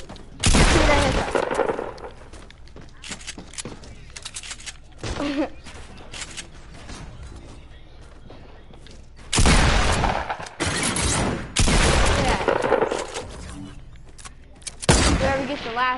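Video game gunfire in bursts of loud, sharp shots separated by quieter stretches, with rapid fusillades around the start, middle and end.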